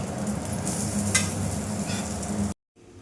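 Vegetable cutlets fry in oil in a pan with a steady, dense sizzle and the scrape of a spatula turning them, before the sound cuts off abruptly near the end.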